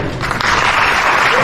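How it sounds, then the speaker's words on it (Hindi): An audience applauds a theatre troupe, with loud, dense clapping that starts suddenly and continues steadily. "आपकी ताली एक बार उन तक पहुंच जाए"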